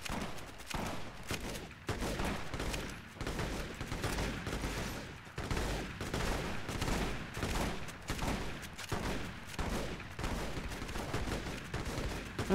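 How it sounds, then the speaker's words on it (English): Sustained distant gunfire in heavily modded Fallout New Vegas, many overlapping shots forming a dense, continuous fusillade with no voices. "Seriously, they're just shooting the mountain."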